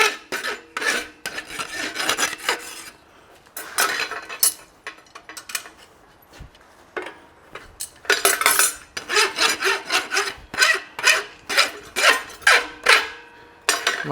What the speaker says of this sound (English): So just finishing our rasping up.